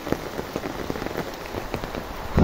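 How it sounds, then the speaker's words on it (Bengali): Heavy rain pours down steadily, with close, rapid drops pattering on a hard surface and a louder burst of noise at the very end. "প্রচণ্ড বৃষ্টি হচ্ছে"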